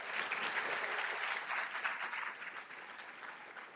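An audience at a college honor-society induction and student awards ceremony keeps up a steady round of clapping, fairly quiet and distant, easing slightly toward the end.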